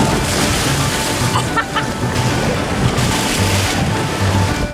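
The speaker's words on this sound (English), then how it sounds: "the only way in is by battling the rapids" Rapids of the Pacuare River rush through the Costa Rican jungle in a loud, continuous roar of churning whitewater that holds steady throughout, with no voices.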